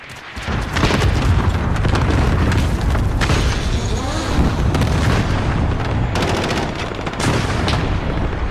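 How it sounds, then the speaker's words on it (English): A grenade blast in a shooter video game, with heavy booms and rattling gunfire packed in around it, loud and continuous across the stretch, with no talking. "Throwing grenade."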